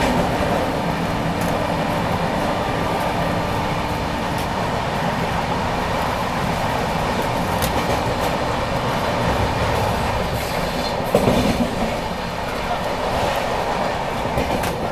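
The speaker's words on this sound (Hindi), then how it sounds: "बढ़िया स्पीड से स्किप कर रही है अभी ट्रेन।" Passenger train on a special service from Chhatrapati Sambhaji Nagar to Gaya running at speed, heard from inside as a loud continuous rumble with faint wheel clatter, steady throughout with no speech.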